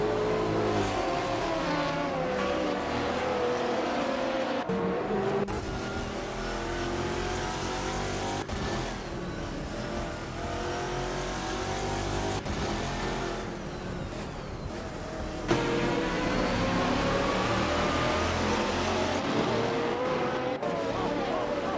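GTR race cars racing at Road Atlanta, their engines roaring and revving loudly and continuously as they pass close by, with shifting pitch sweeps and a faint hint of tire squeal.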